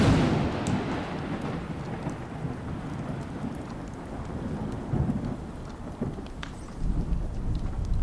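A thunderstorm effect for a spooken Halloween story: steady heavy rain hisses throughout while deep thunder rumbles roll in and swell again near the end, loud and close with no voice over it.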